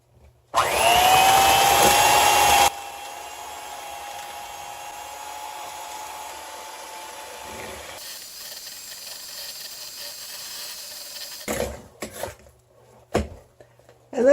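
A small electric hand mixer switched to its low speed whirs loudly and close for a couple of seconds, then hums more quietly and steadily. A few clunks and brief noises follow near the end.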